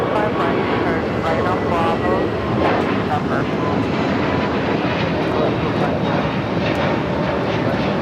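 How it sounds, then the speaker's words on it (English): Brand-new Spirit Airlines Airbus A321neo jet taking off at LAX bound for Detroit: a loud, sustained engine roar with a broad rushing tone, heard under an ongoing commentator's voice. "That Spirit flight taking off, heading to Detroit"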